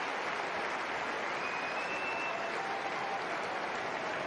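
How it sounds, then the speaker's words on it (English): A tennis crowd at the Rome 2025 women's final applauds after a big point, a steady, even roar of clapping across the stadium that stays constant for about four seconds. "Mark Lopez on his feet applauding."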